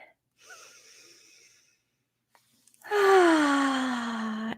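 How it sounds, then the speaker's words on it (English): A deep breath drawn in and released close up, a soft airy inhale followed by a louder, longer exhale with a voiced, sighing tone at the end. "take a nice deep breath"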